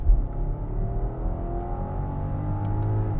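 A muted BMW XM SUV engine drones low and even with exhaust mode off, climbing gently in pitch as it accelerates, with a subdued exhaust note.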